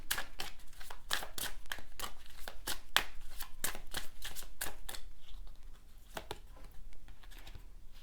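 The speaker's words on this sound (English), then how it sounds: "Let's draw one more oracle card from this deck." Deck of oracle cards being shuffled in quick, repeated riffling snaps, a close and continuous run of crisp card flicks with no talking.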